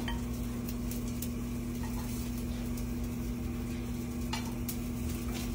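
Sesame-crusted salmon sears in a pan with a steady, even sizzle, accompanied by a low constant hum and a few faint clinks of utensils.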